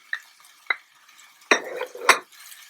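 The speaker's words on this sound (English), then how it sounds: "Keep your flame high and keep your mixture moving around." Tofu, snow peas and green onions are stir-fried in a pan over high flame, with a few sharp scrapes and clacks of a utensil against the pan over a low sizzle.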